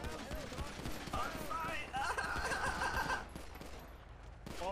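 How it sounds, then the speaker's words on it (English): Rapid gunfire bursts in the video game GTA 5, crackling shots layered with game sounds and voices talking over them throughout, fairly loud and close. "Why is everyone shooting?"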